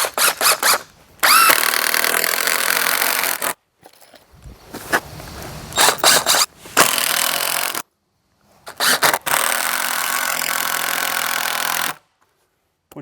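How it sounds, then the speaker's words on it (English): A power drill drives screws into wood while building a firewood rack, with several bursts of whirring separated by pauses and a few short trigger blips between them, close and loud. "secure it into place with 4 total screws using 2 on each side"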